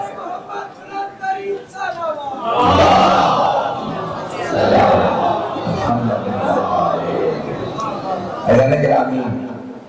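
A large crowd at a Shia religious majlis gathering in Pakistan chants slogans in unison, loud and close, rising in repeated swells of massed voices after a speaker's lead-in.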